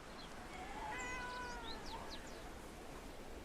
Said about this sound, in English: Kitty, look, we can pet the cats now.